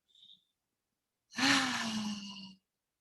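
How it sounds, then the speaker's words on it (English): A long open-mouth exhale during a breathing exercise, a single soft breathy whoosh lasting about a second, close and alone in an otherwise quiet space. "as you exhale, perhaps open mouth exhale"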